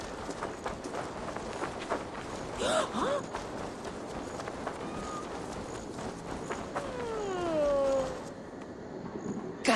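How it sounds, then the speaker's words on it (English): Ship's cat in Assassin's Creed Valhalla meowing a few times, its short rising cries standing out over a steady game ambience, with a longer wavering call near the end. "that old sea cat has run wild, scaring the chickens and scratching me"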